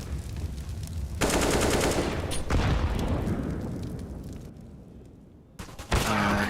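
Rifle fire from a Counter-Strike match, rapid bursts of sharp shots that ring loud and close, then fade to a quieter stretch before a few final cracks.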